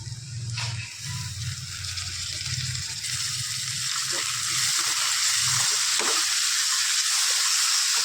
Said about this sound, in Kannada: ಇವಾಗ ಟೊಮೊಟೊ ಹಾಕಿದ ನಂತರ ಸಾಲ್ಟ್ ಹಾಕಿದ್ರೆ ಬೇಗ ಟೊಮೊಟೊ ಫ್ರೈ ಆಗುತ್ತೆ